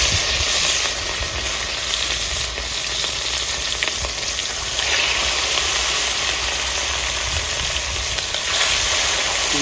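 Rohu fish fries in hot mustard oil in a wok over a village-style stove, giving a steady, loud sizzle and hiss that runs without a break and with no talking.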